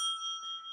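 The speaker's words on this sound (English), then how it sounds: "When your time is up, you'll hear this bell." A debate timer bell rings at a televised Pennsylvania Senate debate, a clear sustained metallic ring with steady high overtones that fades slowly, heard alone without talk.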